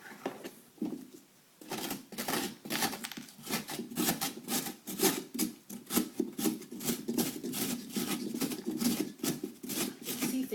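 A carving pumpkin's insides are scraped out with a tool in quick repeated rasping strokes, a steady rhythmic scratching that follows a brief quieter pause at the start.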